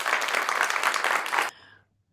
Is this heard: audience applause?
yes